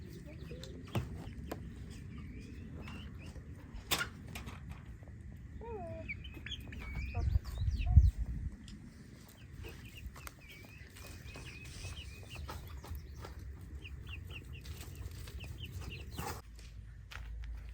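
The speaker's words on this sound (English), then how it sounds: "First item of business is to play with the chicks that are not so little anymore." Young chicks that are nearly grown cluck and peep softly nearby, scattered calls over a quiet outdoor background with a few handling bumps.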